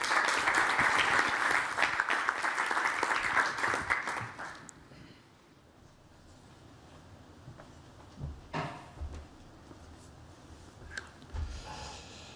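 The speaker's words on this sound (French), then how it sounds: "Des applaudissements pour Paul." An audience gives Paul a burst of applause that stays dense and steady for about four seconds, then cuts off into a quiet room with a few faint knocks and rustles.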